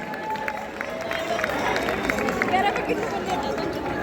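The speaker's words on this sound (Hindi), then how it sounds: "जोरदार तालियां कुलपति जी के लिए बजाएंगे" A university audience at the MDU Youth Festival gives the vice chancellor a round of applause: steady, dense clapping from a large crowd at even loudness throughout, with a faint murmur of voices.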